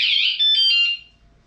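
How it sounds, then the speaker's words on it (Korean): A Neoulrim 3.0 Pro bicycle anti-theft alarm gives a short, loud, shrill electronic blare up close, holding for about a second before cutting off to near silence. "그래서 또또 가져가게 되면 이렇게 알람이 발생하게 되는데"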